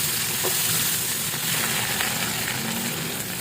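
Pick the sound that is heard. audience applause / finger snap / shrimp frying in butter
shrimp frying in butter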